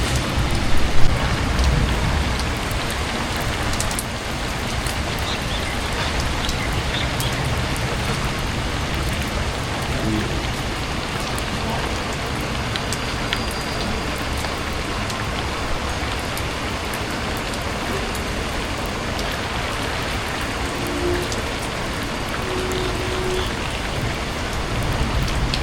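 Heavy rain pours steadily and loudly on surfaces throughout, a dense continuous wash with no voices over it.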